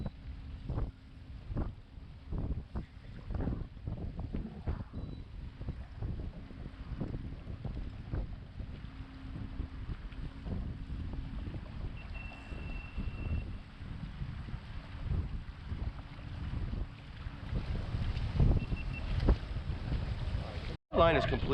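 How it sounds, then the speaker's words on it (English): Wind buffets the microphone aboard a fishing boat off New Jersey, a constant rough rumble with gusty thumps throughout, and a hard knock near the end. "it's just too windy right now"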